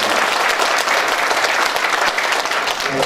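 An audience claps together at a policy debate on Korean history textbooks, a dense, lively burst of applause that fills the short span and stays loud throughout.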